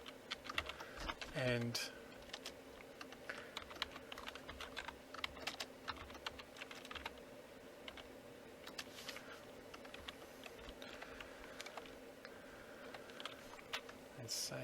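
Fingers clatter on a computer keyboard as HTML is typed, a busy close run of uneven key taps with a brief louder burst early on and a voice speaking briefly.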